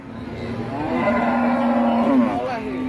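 A Javanese cow at the Jatirogo livestock market lets out one long, loud, drawn-out moo close by, with market noise faint underneath.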